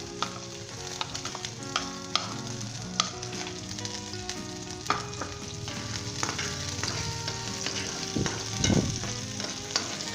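Chopped onion and garlic fry in a pan with oil for a Spanish-style chickpea dish, giving a steady close sizzle broken by occasional scrapes and clicks of stirring, with no talking.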